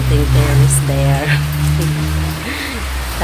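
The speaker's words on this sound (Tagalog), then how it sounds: "Umuulan nga lang." Rain falls steadily on a terrace, a continuous close patter throughout, with voices speaking over it.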